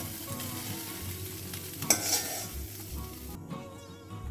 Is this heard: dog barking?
no